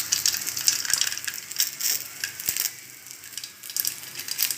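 Mustard seeds crackle and pop in hot oil for tempering okra sambar, a steady rapid crepitation with sharp clicks, close and fairly loud with no talking.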